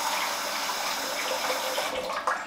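Warm water pours steadily into a shaving bowl sitting in a sink, a continuous close splashing gush with no talk.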